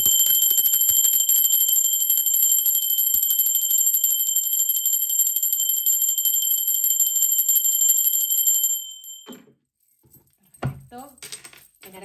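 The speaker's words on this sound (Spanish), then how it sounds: "Ahora sí, va campana." A bright, ringing bell tone sustains steadily for several seconds, then cuts off, followed by brief faint sounds.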